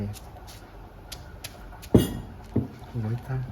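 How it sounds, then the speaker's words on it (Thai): A few heavy thuds of garlic being pounded in a mortar for a Thai dish, irregularly spaced against a quiet background, with a voice talking softly near the end. "ตำแบบนี้เลยเหรอตำแบบนี้เสียงมันดังมาก"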